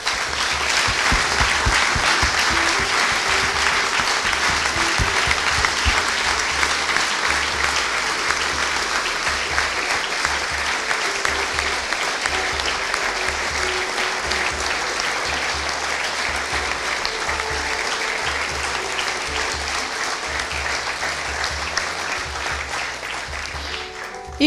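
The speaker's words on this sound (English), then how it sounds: "would you join me in giving them all a round of applause?" Sustained applause from a seated audience at a charity lunch event, honouring the committee members as they stand; dense, steady clapping that holds at an even level for the full stretch with no voices over it.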